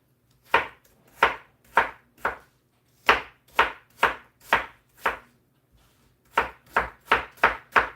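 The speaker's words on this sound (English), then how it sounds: "cut down into some slices like this and use the whole slices in the pies" Knife chopping apples into slices for a homemade apple pie: a run of crisp, close cutting strokes in uneven bursts, about a dozen chops with brief pauses between groups, no talking.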